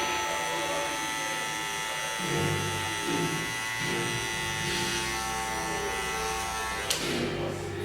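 Electric hair clippers buzz steadily and close up while cutting hair for a freestyle design, the motor hum swelling slightly as the blade moves through the hair, with a brief click near the end.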